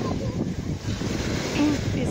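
Steady wash of Sea of Azov surf on a sandy spit with wind rushing across the microphone, a continuous broad roar of waves breaking nearby.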